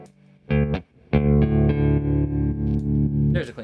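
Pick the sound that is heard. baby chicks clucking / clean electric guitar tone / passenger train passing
clean electric guitar tone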